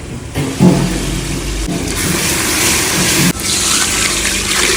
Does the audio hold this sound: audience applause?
no